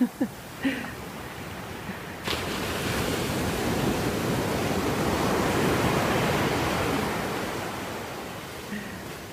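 Ocean surf rushes and breaks right on the shore at high tide at East Beach, Santa Barbara, below cliffs, a steady broad wash that swells and fades, with brief bumps of handling noise at the start.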